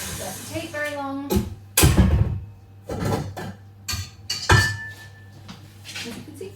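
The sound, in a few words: whisking gingerbread ingredients together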